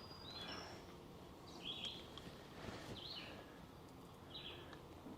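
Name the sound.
birds singing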